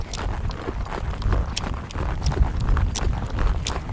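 Horse hooves trotting on an arena surface while working funnel barrels, a steady rhythmic clip-clop of quick muffled footfalls, fairly close, with no talk.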